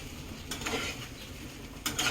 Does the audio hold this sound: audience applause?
no